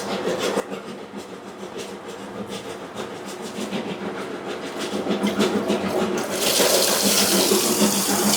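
Water pours and splashes steadily as it is drained off washed soybeans during tempeh making in a traditional tempeh factory, the rushing flow growing louder and fuller toward the end.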